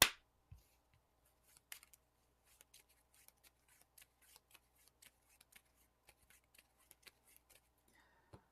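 Game cards from a Marvel Champions deck being shuffled on a table, a quiet run of short, crisp snaps and riffles scattered across several seconds, close and soft, with no voices.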